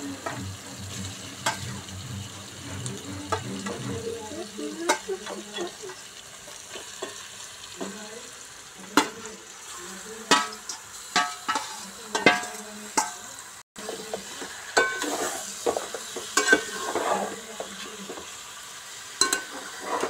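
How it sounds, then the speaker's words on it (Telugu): Chicken frying with ginger in a pan, a continuous close sizzle broken by repeated sharp scraping and clacking stirs of a spoon against the pan, with no talk. "ఇప్పుడు చికెన్ వేసుకుందాం."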